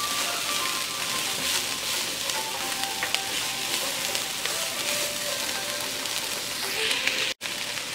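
Onions fry in a pan as part of cooking braised smoked pork hock, making a close, continuous sizzle dotted with small crackles and spatters, with a brief dropout near the end.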